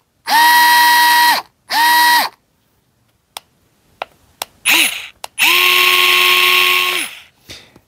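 A Bosch Go 3 cordless screwdriver motor whines loudly up close in two short bursts. A few clicks follow, then a longer run that ramps up and winds down. There is no talking.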